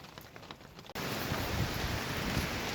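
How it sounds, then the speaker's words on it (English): Rain pours onto a backpacking tent in Colorado's San Isabel National Forest, starting softer then abruptly swelling into a loud, dense, steady hiss of drumming drops close overhead. "You see the sheets of rain?"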